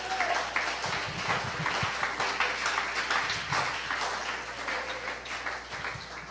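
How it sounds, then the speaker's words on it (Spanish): A church congregation at a Spanish-language service applauds steadily for several seconds. The clapping is dense and continuous across a large room. "Démosle ese aplauso al Señor."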